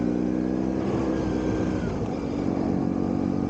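A BMW R1100S motorcycle engine climbs a mountain road in Wales with a steady, close, continuous drone and low rumble, swelling slightly as it pulls uphill, with wind noise over the top.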